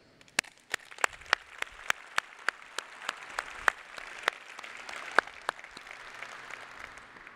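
Applause from staff at a port's annual State of the Port event: a few loud, distinct single claps stand out close by over softer, steady group clapping that fades toward the end.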